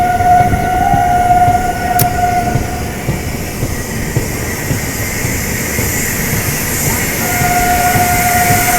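Purushottam Express from Puri to Anand Vihar overtaking at Hathras Junction, a loud continuous rumble of passing coaches with a horn sounding briefly near the start and again near the end.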